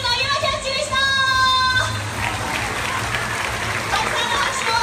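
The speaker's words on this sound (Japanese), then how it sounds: "たくさんの拍手をありがとうございます。" An audience at a beach-resort aquarium show applauds after a swimmer's underwater ring-catching stunt, a dense wash of clapping that follows a presenter's voice and carries on steadily to the end.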